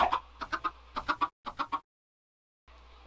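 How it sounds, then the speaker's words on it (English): Chickens clucking in a survival video game: a string of short, close, rhythmic clucks in quick bursts, then a pause and a low background tone returning. "I can't get any more chickens"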